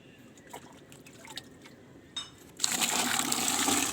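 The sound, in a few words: water poured onto soaked mustard oil cake in a container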